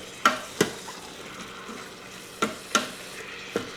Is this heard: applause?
no